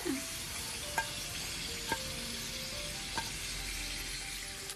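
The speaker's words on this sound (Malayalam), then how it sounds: "ഇതാ നമ്മുടെ ചിക്കൻ ഇവിടെ ഫ്രൈ ആകുന്ന സമയത്ത്" Stuffed whole chicken fries on a medium flame, giving a steady, moderately loud sizzle and hiss with a few soft clicks spaced through it.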